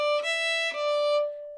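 A fiddle plays the short opening phrase of an Irish tune, a steady sustained bowed note with two brief note changes, clear and close, with no talk.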